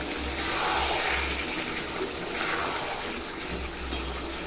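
Chicken and potato curry bubbles in an uncovered pot as a spoon stirs it, a dense, steady wet rumble with soft scraping and a low hum underneath, close and fairly loud throughout.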